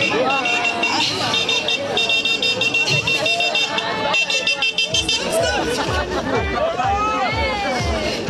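Short vintage car horn toots sound amid a busy crowd at an old-timer car rally and vintage show at a château, with lots of overlapping chatter and voices outdoors.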